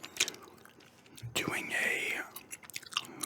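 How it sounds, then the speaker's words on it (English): Gum chewing close to the microphone in a whispered ramble about NFL Week 1: soft, wet smacks and clicks come in irregular bursts, with quiet whispering between them. "gum chewing NFL Week 1 ramble"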